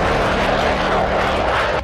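A US B-1B bomber flies over the Baltic Sea, its engines making a loud, steady broadband roar that holds for the whole stretch and cuts off abruptly at the end.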